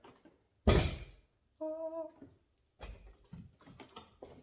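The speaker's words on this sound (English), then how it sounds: "Let me open the door." A Nissan S13 car door opens with a loud, sharp thunk near the start, followed by a brief tonal whine and softer handling clatter.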